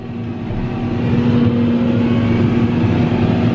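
Fendt 724 tractor running with a McHale mower mounted on the front, a loud steady engine drone with a strong low hum that rises slightly and holds, no talking.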